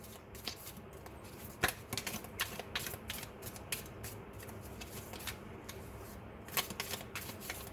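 Tarot cards shuffled by hand during a reading, a run of crisp riffling flicks and soft slaps in an irregular rhythm, close and fairly quiet with no talking.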